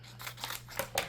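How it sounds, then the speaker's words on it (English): Scissors snipping apart flimsy Cricut vinyl stickers, four or five quick close crisp cuts in a short burst over a low steady hum. "I'm going to go ahead and just kind of cut these apart"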